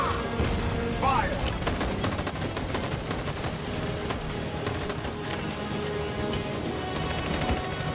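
Dense, continuous video game gunfire in Detroit Become Human, rapid overlapping shots and bursts like a fusillade filling the whole stretch, loud and close with no letup.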